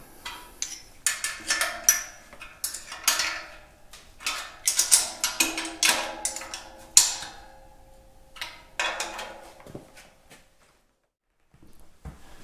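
Radiator mounting bolts being tightened with a ratchet, a rapid run of sharp metallic clicks in uneven bursts, close and distinct, pausing briefly before a few final clicks.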